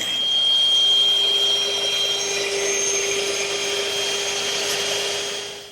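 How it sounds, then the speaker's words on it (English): Power sander smoothing the wooden joints of a standing mirror frame in a woodworking shop, giving a steady, close, continuous whirring drone with a high whine that runs the whole time and eases off at the end. "I don't want to rush this sanding step because the smoother and more even I get all these joints"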